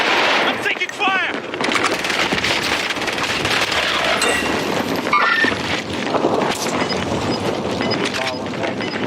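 Rapid video game gunfire, dense bursts of machine-gun and rifle shots crackling loudly and almost continuously, with sharp single cracks standing out and a voice talking over the shooting.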